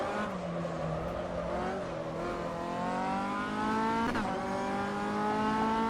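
An MCR 2000 race car engine drones loudly and steadily throughout, its harmonics easing down as the car slows under hard braking, with a brief sharp burst near the end. No tyre squeal stands out clearly.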